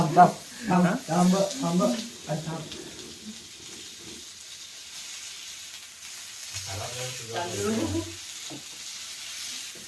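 Hot oil hisses and spits in a pan as chicken fries, a steady crackling sizzle that runs under voices talking nearby.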